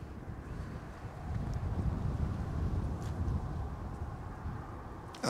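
Light outdoor wind in Yalta in late December, a steady low rushing buffet against the microphone with gentle gusts, fairly faint and with no voices.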